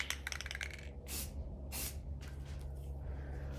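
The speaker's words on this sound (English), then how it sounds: "just spray for 1 second and see, you have a clean nozzle like this" A spray paint can gives two short hissing bursts, about a second each, close by during work on car wheel rims, set against a low steady background hum.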